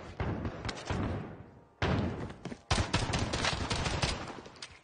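XM4 machine gun firing in a shooter game, rapid close bursts of automatic fire in two or three loud stretches broken by brief gaps.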